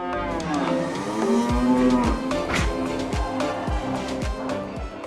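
Longhorn cattle on a farm lowing repeatedly, a long drawn moo followed by a series of shorter calls in a rough rhythm, close and fairly loud with no talking.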